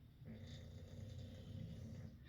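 A dog snores close by with a low, steady, rumbling rhythm of breaths, continuous and fairly quiet with no talking.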